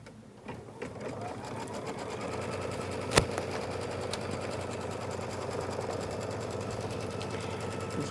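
An embroidery machine stitching a tack down line hums with a rapid, even needle rhythm that starts softly and holds steady, with one sharp click midway.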